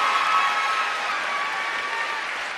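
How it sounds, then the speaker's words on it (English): An audience at a talk on success strategies for young people bursts into sustained applause, a dense clapping wash with faint cheering that holds steady and fades slightly near the end. "Just give them both a round of applause."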